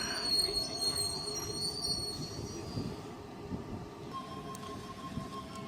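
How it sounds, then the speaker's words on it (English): A Sydney suburban train, sets T49 and T76 bound for Bondi Junction, rolls out of a station platform with a steady low rumble and high wheel squeal, heard at moderate distance. "T49 and T76 now departing platform number 1, Bondi Junction service."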